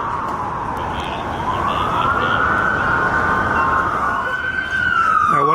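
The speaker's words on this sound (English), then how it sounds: "One's going away in the ambulance over there." Ambulance siren wailing loudly at a massive police response to an armed robbery outside a jewelry store, a steady rising-and-falling tone over constant street noise, continuous throughout.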